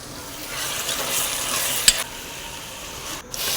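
Vegetables stir-frying in a pan for egg noodles with soy sauce, green chilli sauce, tomato ketchup and Maggi masala, a steady close sizzle with scraping strokes and one sharp utensil clack midway.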